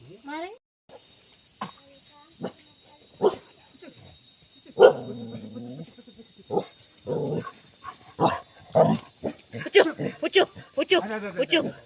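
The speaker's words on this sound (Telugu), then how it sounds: "కుక్కలు తోలేస్తున్నాయి." Dogs bark repeatedly at close range in uneven bursts while chasing off cattle in a forest in Maredumilli, India, some yips and whines mixed in, with people talking between barks.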